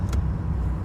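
A Porsche 924 Carrera GT engine drones steadily while driving, a low, even hum with road noise and no break in the sound.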